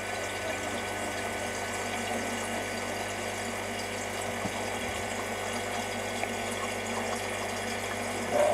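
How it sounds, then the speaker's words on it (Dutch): A koi pond pump pushes oxygen-rich water back into the pond, a steady mechanical hum under continuous splashing and trickling water, close and unchanging throughout. "Die pomp plaatst al het water in de vijver."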